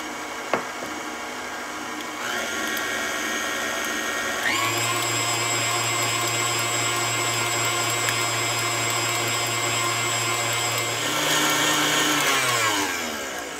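An electric stand mixer beats large eggs for a scratch-made Southern sweet potato pie, a steady motor whine that steps up to a higher, louder speed partway through, then winds down near the end, with no talking.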